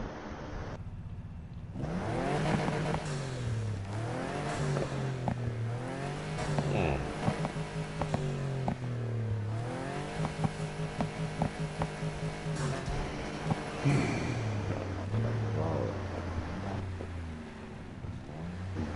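A car engine in the racing video game Need for Speed Heat revs repeatedly, rising and falling through gear changes in a loud, continuous stretch with a faint steady hum beneath; no speech.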